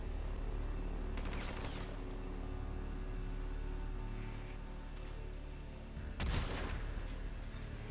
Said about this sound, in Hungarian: Fejbe lőttem csórót.